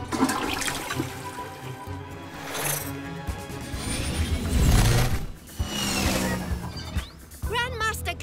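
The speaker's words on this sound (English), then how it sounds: "Grandmaster Glitch, stop flushing wet wipes" A cartoon toilet flushes with a loud rushing swirl of water, mixed with clanking mechanical effects and music, while characters talk over it near the end.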